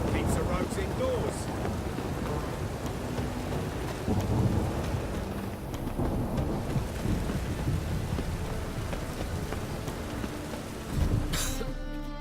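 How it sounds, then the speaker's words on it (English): Steady rain pours throughout a stormy scene in The Witcher 3, with low rolling thunder swelling midway and a sharper rumble near the end, while voices talk briefly over it. "I like rain."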